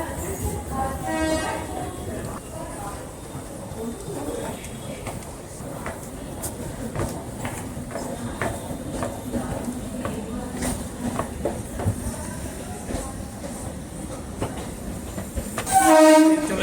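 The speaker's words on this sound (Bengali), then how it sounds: "কি ট্রেন চলে এসছে?" A train pulls into Ranaghat railway station with a steady loud rumble of wheels and carriages, a horn sounding near the start and again at the end, while people talk nearby.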